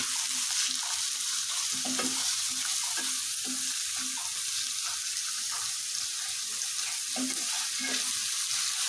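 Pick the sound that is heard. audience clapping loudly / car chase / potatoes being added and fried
potatoes being added and fried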